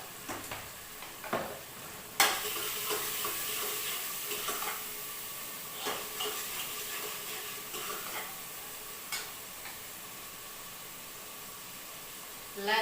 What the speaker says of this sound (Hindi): इसके बाद डालेंगे इसमें थोड़ा नमक, ताकि टमाटर अच्छी तरीके से गल जाए।